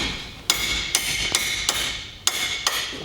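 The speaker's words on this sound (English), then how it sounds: "You whacking my new tool." Repeated hammer blows on a metal tool while working on a Toyota Supra project car, six sharp close ringing strikes spaced irregularly about half a second apart, with no talking.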